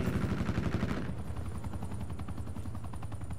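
Gunfire in Call of Duty Black Ops 4, a rapid, continuous machine-gun rattle of evenly spaced shots, loud and close, with the tone shifting midway as the firing continues.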